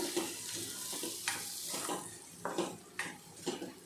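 Onion-garlic masala sautéing in a pan for a wild monsoon vegetable stir-fry, with a steady close sizzle broken by repeated scraping stir strokes.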